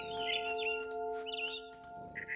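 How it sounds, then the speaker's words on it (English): Barn swallow chirping in the video game What Remains of Edith Finch, quick bright twittering calls in short bursts, faint and alone over a soft sustained tonal game ambience. "Then I heard chirping outside my window."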